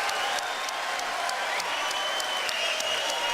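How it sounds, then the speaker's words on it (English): A boxing arena crowd in Tacoma roars and applauds continuously, a dense, loud wash of clapping and cheering with faint rhythmic claps poking through and no clear pauses. "The crowd is on its feet."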